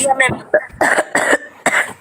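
A person coughs several times in short, sharp bursts close by, with a throat-clearing edge, the coughs mixed in with speech.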